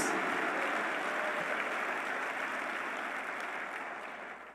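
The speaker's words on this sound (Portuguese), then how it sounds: "Agora dá um aplauso com vontade." Congregation applauding during a church service, a dense sustained wash of clapping from a large crowd that holds steady, then fades at the end.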